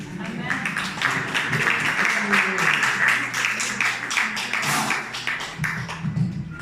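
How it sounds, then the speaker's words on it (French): Church congregation clapping for God during a French-language service, a busy patter of hands mixed with voices and cheering underneath, fairly distant and moderately loud throughout. "Est-ce qu'on peut applaudir le Seigneur?"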